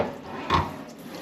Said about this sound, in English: we're just gonna give it a nice rinse